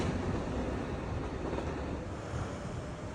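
A continuous low rumble of a train at a station fills the air, steady and broadband, with no voices over it.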